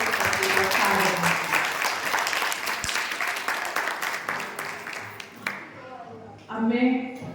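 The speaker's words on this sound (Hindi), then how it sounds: "तो एक बार जोरदार तालियों से" Strong applause from an audience at a school graduation ceremony for kindergarten (LKG) children in Mathura, a dense steady roar of clapping that thins out near the end as a voice begins speaking.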